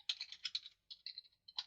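Fingers typing on a computer keyboard in quick, uneven bursts of clicks with short pauses between, close and alone with no talk.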